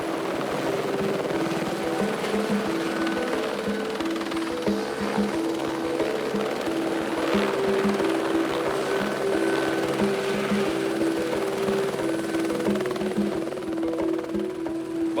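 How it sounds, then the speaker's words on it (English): A helicopter flies and then sets down during an endangered antelope relocation in Kenya, its rotor thudding loud and steady throughout with a continuous engine whine and no break in the noise. "looks for a place to set the chopper down."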